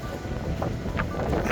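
Strong wind buffets the microphone on the summit of Meall Bhuidhe in Glen Lyon, Scotland, a steady loud roar with brief gusty surges over a short stretch.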